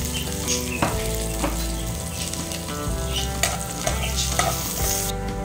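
Garlic and onion sizzle in olive oil in a pan, a close, continuous crackling fry broken by the scrape and clink of stirring at irregular moments.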